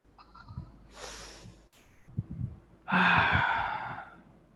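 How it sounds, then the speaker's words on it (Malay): A group doing a breathing exercise in a student confidence talk: faint nasal inhalations, a held pause, then a long, loud, breathy exhalation through the mouth from many people together, with quiet room noise and no speech. "Tarik angin tu guna hidung. Masukkan dia dalam perut. Tahan, lepaskan ikut mulut."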